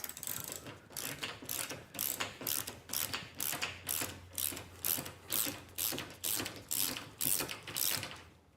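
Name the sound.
removing 9/16 bolts from Ford Transit roof rack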